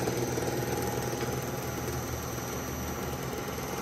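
An old, freshly cleaned electric motor runs steadily at 60 hertz, a constant close hum with a faint mechanical rattle and no voices.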